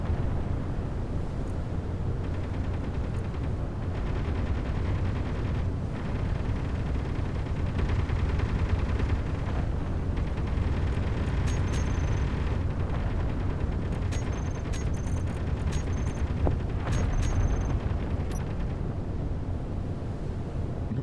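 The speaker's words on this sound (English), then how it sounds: "I see the ship is shooting as well at the meteors." Dense, steady roar of spaceship cannon fire against meteors in a space video game, with faint high electronic tones flickering above the constant low rumble.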